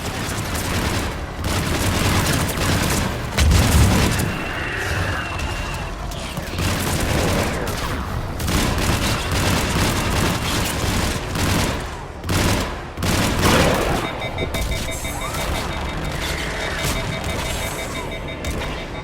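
Missile launches and gunfire during a Mass Effect 3 battle, with dense rapid shots, booms and explosions packed together, loud and close throughout, and an electronic beeping tone in the latter part.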